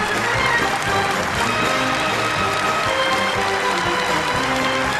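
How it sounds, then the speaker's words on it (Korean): Dense, sustained applause fills a banquet hall as a large crowd of guests claps enthusiastically in an even, continuous roar. "전체 참가자들은 우렁찬 박수로서 열광적으로 환영했습니다"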